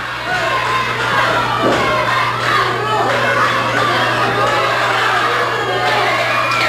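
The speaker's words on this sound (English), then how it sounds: "The referee hears the roar of the crowd, and he knows something's happening" A wrestling arena crowd at an NWA match roars and shouts continuously, loud and dense, with scattered whoops and a steady low hum beneath.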